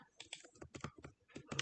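Quick, uneven keystrokes on a computer keyboard during electrical design software work, a short close burst of clicks typed alone at low volume.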